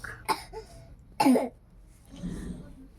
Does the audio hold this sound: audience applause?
no